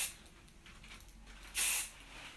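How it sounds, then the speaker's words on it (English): Hair spray is sprayed onto an updo in one short, loud aerosol burst that stands out against a quiet room. "Take my lustrous spray a little bit"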